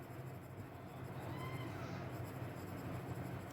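Pen writing on paper while drawing a graph, faint soft scratching strokes close by against a quiet room hum, with no voices over it.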